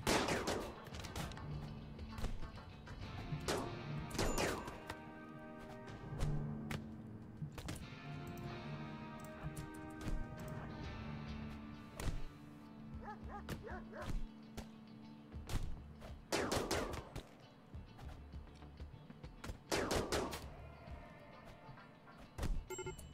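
Sporadic gunshots ring out in RimWorld, sharp cracks scattered irregularly over a steady game music bed, some shots clustered in quick pairs, moderately loud and unaccompanied by talk.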